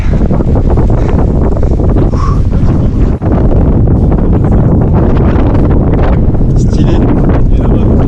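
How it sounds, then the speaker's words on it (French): Strong wind buffets the microphone continuously and loudly during a bike ride, a dense roar with one brief dip, and a voice speaks briefly over it. "on aura eu le vent jusqu'au bout"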